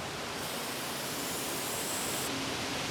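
Aerosol cleaner sprayed into the idle air control hole of a 2001 Dodge Dakota 4.7L, a steady close hiss lasting about three seconds with no talk.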